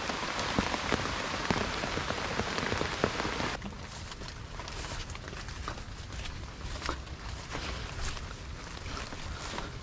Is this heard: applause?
no